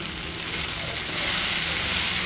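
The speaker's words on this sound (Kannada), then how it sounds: "ಫ್ರೈ ಆದ ನಂತರ ಇದಕ್ಕೆ ಹಚ್ಚಿಟ್ಕೊಂಡಿರೋಂಥ ಬೆಂಡೆಕಾಯನ್ನು ಸೇರಿಸ್ಕೊಳ್ತಾ ಇದ್ದೀನಿ" Sliced okra fries with tomato in a pan for a Karnataka-style palya, giving a loud continuous hissing sizzle that swells slightly over a couple of seconds, with no talk.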